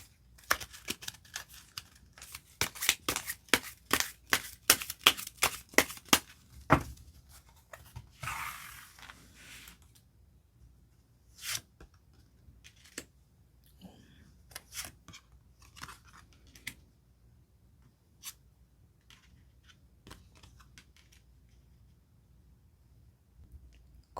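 Tarot cards being shuffled and picked out by hand, a quick run of crisp riffling snaps at first, then sparse soft slides and taps of single cards, close and quiet with no talk.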